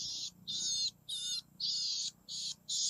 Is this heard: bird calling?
yes